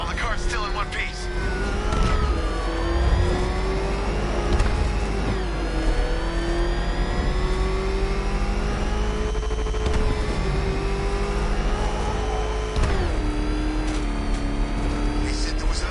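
A car engine in Batman: Arkham Knight revs and drives in a steady, continuous drone with rising pitch and occasional surges, while people talk over it.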